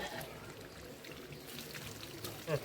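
Water poured out in a soft, steady trickle during a home Mattu Pongal cattle celebration, faint and continuous with a slight splash near the end and faint voices in the background.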